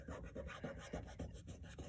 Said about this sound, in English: you're just gonna rub it all everywhere that you see where the halo is.